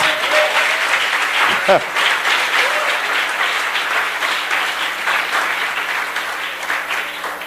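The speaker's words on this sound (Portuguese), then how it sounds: "Quem pode dar uma salva de palmas para Jesus?" A church congregation breaks into sustained applause during a Sunday evening service, clapping steadily throughout with a brief voice cutting through near the start.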